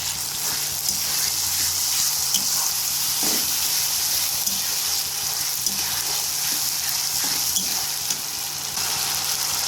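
Grated tomato hits a hot pan of oil for egg curry, setting off a steady, loud, close-up sizzle of frying that holds through the whole stretch with a few faint stirring knocks and no voices.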